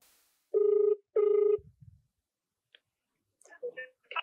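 An outgoing phone call, with two long ringback tones, some faint handling clicks, then brief muffled sounds as the line picks up.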